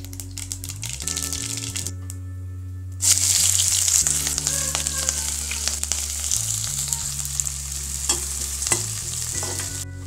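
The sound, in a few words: onions sautéing in a pan with curry leaves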